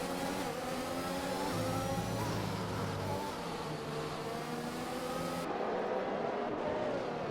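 Several race cars in a tightly packed pack at the Spain round of a sim racing league, engines droning and shifting together in layered harmonics, loud and continuous with no talk.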